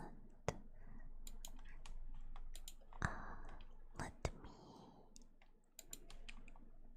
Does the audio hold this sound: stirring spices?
no